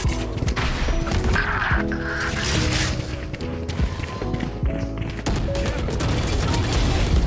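Video game combat with a grenade explosion and bursts of gunfire, loud and dense, with overlapping shots, crashes and movement sounds throughout and faint voices underneath.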